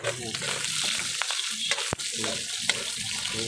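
Pork fat and meat browning in a pan for a mung bean dish give a steady, close sizzle and crackle, with occasional stirring scrapes over the frying.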